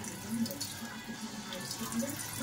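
Water pours steadily into a pot of Ilocano igado in one continuous splashing stream, close up and fairly quiet.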